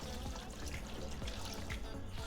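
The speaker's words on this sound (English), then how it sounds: "Add our water," Water pours into a soup pot for butternut squash soup, a steady close trickle and splash with faint dripping, quiet and alone.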